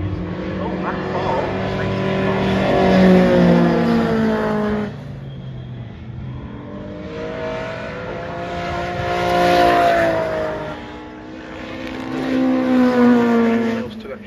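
A Lotus Elan race car laps the Brands Hatch Grand Prix circuit during a Masters Gentlemen Drivers race, its engine note droning loud and rising and falling as it passes, under continuous commentary.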